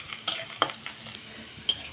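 Chopped onion and a bay leaf fry in hot oil in a kadai, a faint soft sizzle broken by a few sharp clinks and scrapes of a spatula against the pan.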